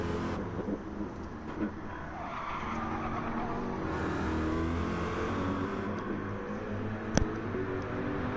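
GT3 race cars, a Corvette and an AMG, roar through a corner in a sim racing game, a steady loud engine drone with tyre squeal and a brief sharp click near the end, no talking.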